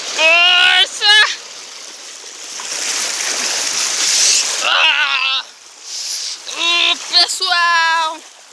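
A waterfall swollen by heavy rain gives a steady broadband rush that swells in the middle, with voices talking over it at the start and end.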